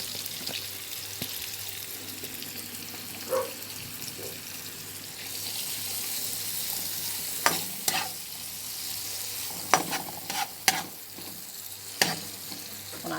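Saltfish for ackee frying in a pan, a soft steady sizzle broken by sharp scraping clicks of stirring, close and moderately quiet.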